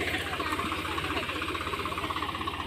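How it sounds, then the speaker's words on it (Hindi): A tractor engine runs steadily in a field being readied for wheat sowing, a close, rhythmic mid-pitched knocking idle that continues throughout with no break. "भाई ट्रैक्टर चल रहा है अपना"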